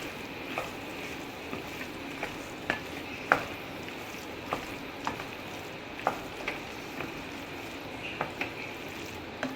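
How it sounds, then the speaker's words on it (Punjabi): A spoon clinks against a pan at a steady rhythm while potato and spinach curry with desi ghee simmers and sizzles softly underneath. "ਹੁਣ ਆਪਾਂ ਇਹਨੂੰ ਹਿਲਾ ਦਈਏ"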